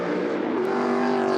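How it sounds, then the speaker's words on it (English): A race car engine at an Australian production car endurance race holds a loud, steady, buzzing note at high revs, close by and continuous for a brief moment. "Oh, that Hadrian Morrill car sounds good, doesn't it?"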